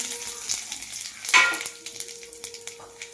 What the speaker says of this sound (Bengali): এখানে দেখো গোটা লঙ্কা, তেজপাতা আর জিরে আমি ফোড়ন দিয়ে দিলাম।